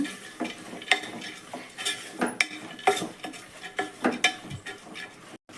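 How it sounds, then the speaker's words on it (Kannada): Sprouted beans fry in a pan for a Kannada-style sambar, with rhythmic scraping and stirring of a spoon against the pan every half-second or so over a soft, steady sizzle. "ಇದನ್ನು ಸ್ವಲ್ಪ ಫ್ರೈ ಮಾಡ್ಕೊಳ್ಳೋಣ"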